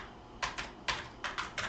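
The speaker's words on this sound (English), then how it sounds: "we'll just type in some random email" Keys on a computer keyboard clatter in short bursts of quick, close taps while an email is being entered on a sign-up form, quiet and clear with no talk.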